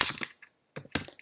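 Quick clacking keystrokes on a computer keyboard, near and crisp, in two short bursts split by a brief pause, with no voices.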